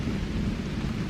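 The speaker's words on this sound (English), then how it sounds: "now we have legitimate thunder rumbling" Thunder rumbles low and steady through a brief stretch, a deep continuous roll at moderate distance with soft rain-like hiss on top and no talking.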